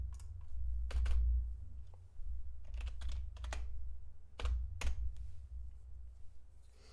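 Computer keyboard typing during a 3D rigging session, short bursts of crisp key clicks separated by pauses over a low steady hum.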